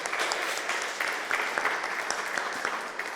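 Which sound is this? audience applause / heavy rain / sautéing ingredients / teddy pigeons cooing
audience applause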